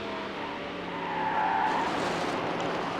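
Race cars in the video game Need For Speed Hot Pursuit 2 skid with a sustained tire squeal riding over steady engine roar, swelling louder midway through the three seconds before easing slightly.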